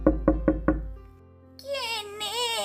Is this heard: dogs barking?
no